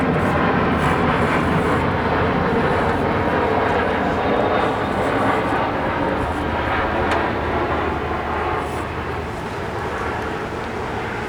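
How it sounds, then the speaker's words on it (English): A fixed-wing airplane passes overhead, its engine drone a loud, steady roar filling the whole stretch and easing slightly toward the end. "Let's wait for this plane to pass."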